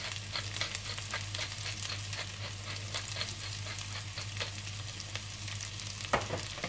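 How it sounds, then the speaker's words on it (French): Potatoes and fish reheating in a pan over low heat give a soft, continuous sizzle, with light scraping and stirring taps throughout and a sharper clink near the end; quiet and close, with no speech. "Quand mes pommes de terre se réchauffent, je mets en route aussi le poisson sur feu doux pour qu'il se réchauffe."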